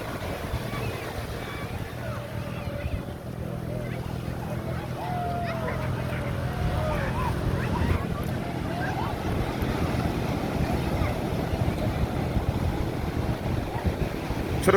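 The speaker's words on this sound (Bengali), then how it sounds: "ওয়াও, অনেক সুন্দর ঢেউ।" Sea waves break steadily on the beach at Cox's Bazar, where people are bathing and speedboats are nearby, making a constant broad wash of surf mixed with wind rumble, with faint voices in the background.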